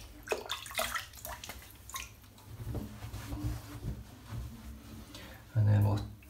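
Water splashing as a face is wetted before a shave with a badger brush and a safety razor, soft close splashes and trickles under a speaking voice, ending in a louder splash.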